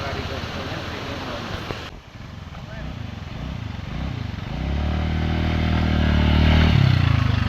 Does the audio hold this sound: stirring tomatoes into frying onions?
no